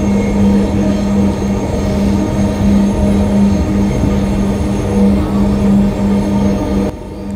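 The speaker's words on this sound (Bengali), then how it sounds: "এই মেট্রো রেল 90 থেকে 95 কিলোমিটার গতিতে ছুটে চলেছে, যা সম্পূর্ণ ইলেকট্রনিক মাধ্যমে।" A Dhaka metro rail train bound for Uttara North runs at about 90 to 95 km/h, giving a loud, steady close rumble with a constant whining tone that drops slightly at the end.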